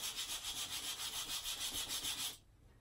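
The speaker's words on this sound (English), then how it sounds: "So I'm just going to take some sandpaper now and just" Sandpaper rubbed back and forth over a wooden blanket ladder to distress it, a steady rhythmic scratchy rasp with regular strokes, close and alone, stopping abruptly near the end.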